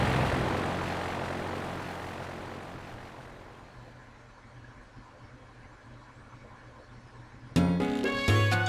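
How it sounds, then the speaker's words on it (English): Airplane engine roaring in Pokemon Black 2, a video game, loud at first then fading away over several seconds, followed by a sudden burst of game music. "Let's get on the plane then."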